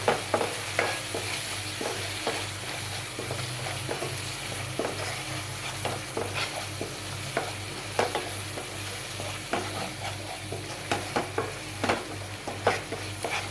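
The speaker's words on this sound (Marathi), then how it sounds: "हे पण सगळे असे व्यवस्थित तेलामध्ये फ्राय करून घ्यायचे।" Masala sizzles and fries steadily in hot oil for a moth bean sprout curry, with frequent close stirring scrapes and taps of a spoon against the pan.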